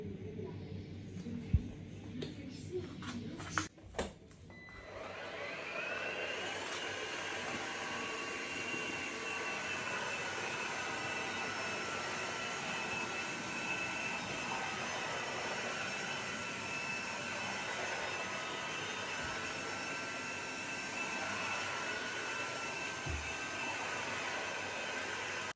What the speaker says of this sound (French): cet aspirateur laveur de la marque Ozotec H200, c'est un aspirateur laveur.